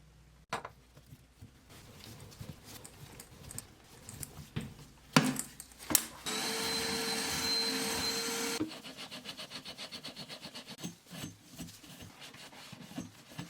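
A small vacuum clears debris from a toilet supply pipe during a toilet fill valve replacement, giving a steady close whine for a few seconds amid scattered rubbing and handling noises.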